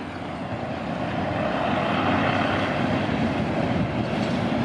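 A Hitachi 4519 diesel train crosses the Black Bridge near Bang Sue, giving a steady, loud rumbling roar of engine and rolling wheels that holds constant throughout, with no talk.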